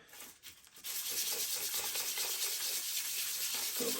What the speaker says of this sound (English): Rub a sandpaper. One side. The other side.